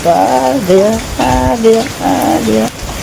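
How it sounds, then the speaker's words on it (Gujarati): Steady rain hisses evenly under loud, sing-song voices that dominate the foreground in short phrases. "વરસાદ"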